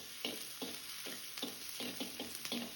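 Chopped onion and green chili frying in oil in a kadai, a soft steady sizzle with rhythmic stirring scrapes about every half second, faint and close, no voices.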